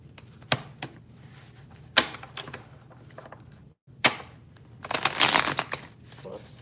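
A deck of tarot cards is shuffled by hand, with sharp riffling snaps and clicks scattered through the clip, ending in a longer dense burst of card rustle near the end.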